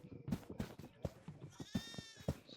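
A goat bleats in a farmhouse level of the horror game Devour, repeated wavering cries rising and falling several times in a row, fairly faint and heard alone.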